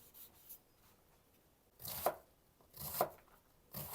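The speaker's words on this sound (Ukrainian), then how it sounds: "Буду так надрібно різати цибулю." A knife chops onion finely on a cutting board in three or four crisp, separate strokes, close and quiet, with no voices.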